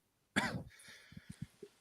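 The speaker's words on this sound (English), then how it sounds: "He's going to cough again. Here he goes again." A man gives one loud, close cough, followed by a few soft clicks and thumps fading into quiet.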